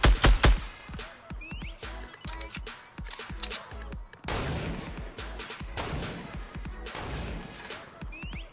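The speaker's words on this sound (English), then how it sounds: "Why is he shooting?" Rapid bursts of video game gunfire crack out in sharp, irregular volleys, loud and close, with some quieter busy stretches between shots.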